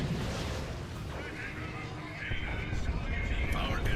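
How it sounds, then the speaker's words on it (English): D-Cannon artillery fires in a Dawn of War Elite Mod tournament match, heavy rumbling booms in a thick wall of battle noise, loud and sustained, with a dense voice-like layer running through it. "We do see a D-Cannon being called in here from Rogue."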